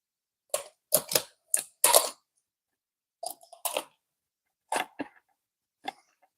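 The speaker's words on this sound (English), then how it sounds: "So just cutting the chicken like that." A sharp knife cuts through a whole chicken being butterflied, giving a handful of crisp, crunchy snaps and slices in short bursts separated by silent pauses.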